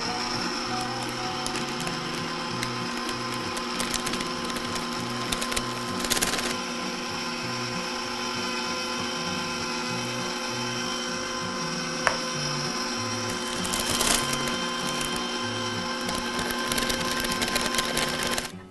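An electric mixer runs at slow speed through pumpkin coffee cake batter, a steady close whirring hum with faint rhythmic knocks as it works, continuous and without talk.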